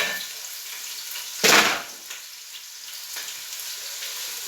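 Chopped onions fry in hot cooking oil in a pan, a steady bright sizzle with one louder hiss and crackle burst near the start, then settling back to a constant frying hiss with no talking.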